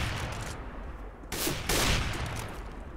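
Rapid gunfire from Counter-Strike: Global Offensive rattles in dense bursts, loud and continuous with a brief lull before heavier fire resumes, no talking.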